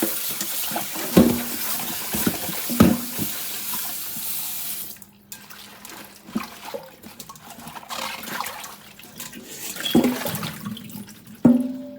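Water runs from a tap in a sink, splashing and gurgling with intermittent louder knocks and clunks, up close.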